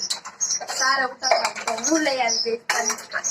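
Pots and dishes are scrubbed at home, with light metallic clinks and scraping heard under close conversation that dominates most of the moment.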